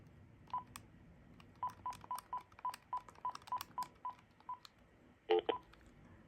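DTMF keypad tones from a Uniden D1660 cordless phone being dialed: a quick run of about a dozen short, even beeps, moderately close, followed by a brief louder burst of tones near the end.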